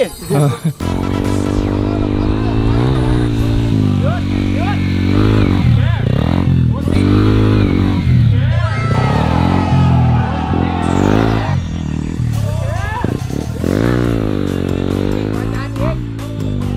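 Enduro motorcycle engine ridden and throttled, a loud close continuous drone with rising and falling revs and throttle bursts throughout.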